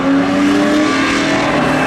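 A Subaru and a Pontiac Firebird launch side by side at a speedway spectator drag race, engines roaring loudly and steadily with a strained, revving tone throughout the short burst.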